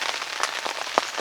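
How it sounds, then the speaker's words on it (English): Heavy rain falls on a lake at Ratherheath Tarn, a close, steady patter of drops with a few sharper nearby splats, and no voices. "Rain's getting a bit heavier now."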